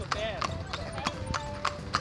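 Horse hooves clip-clop in a steady rhythm as a horse-drawn carriage rolls through a garden area in Ilocos, with bright, close, regular strikes under continuous talking from passengers and the driver.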